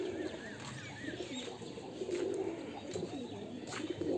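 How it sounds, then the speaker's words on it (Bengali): Two pigeons coo in a loft with a feeding spot, soft, low repeated coos close to the microphone over faint background noise and a few higher chirps, with no talking. "এইখানে দুটো পায়রা আছে"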